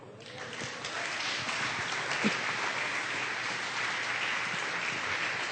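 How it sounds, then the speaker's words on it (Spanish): Steady, dense applause from a church congregation during a Spanish-language sermon, sustained and fairly even for several seconds with no talking. "Dale un aplauso al Señor."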